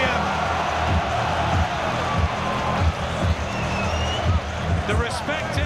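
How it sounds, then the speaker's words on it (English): Dense, continuous roar of a large crowd at a heavyweight boxing bout between Anthony Joshua and Wladimir Klitschko at Wembley Stadium, steady and loud throughout, with a commentator's voice running beneath the noise. "listen to the crowd loving this heavyweight spectacle here at Wembley Stadium"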